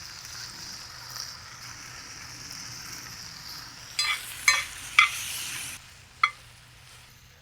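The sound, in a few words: butterflied shrimp sizzling in a hot pan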